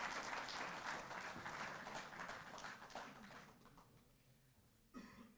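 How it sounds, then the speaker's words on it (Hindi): Crowd at a felicitation ceremony for Asian Games medal winners applauds a chief minister, with clapping gradually fading out and a brief cough-like sound near the end. "खेल में जोरदार तालियों के साथ आइए"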